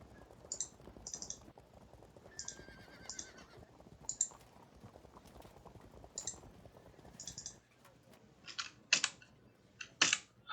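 Horse neighs from a Parthian versus Roman battle in the Field of Glory II strategy game: short, bright cries that recur every second or so, mixed with soft clicks and a faint, steady background bed.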